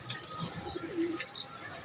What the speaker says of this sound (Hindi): ये कबूतर आ रहा है